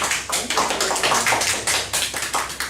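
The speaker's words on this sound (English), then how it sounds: "Why don't we give her a round of applause?" Audience applause at an academic conference session: a run of quick, even, close claps that sounds like a small group clapping steadily for a few seconds.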